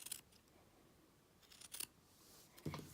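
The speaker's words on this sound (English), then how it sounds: "So we're going to cut off the seam of the sleeve completely." Scissors snip through the sleeve seam of a garment, a few short crisp cuts at close range separated by quiet pauses.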